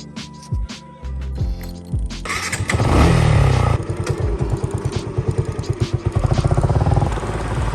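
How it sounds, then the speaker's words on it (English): A 2022 Suzuki Gixxer 155 motorcycle with a modified exhaust starts up close by, then idles loudly with a fast, throbbing putter that swells into revs toward the end. "the bike is quite loud. It might be because the owner must have done something with the exhaust"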